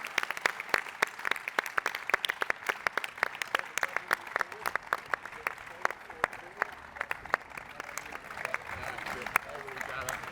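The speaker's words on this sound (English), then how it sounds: "a big round of applause for everyone behind the scenes" A modest group claps for the behind-the-scenes crew at a talk event, producing a sparse, fairly quiet patter of individual hand claps spread over about ten seconds, with an indoor hum beneath.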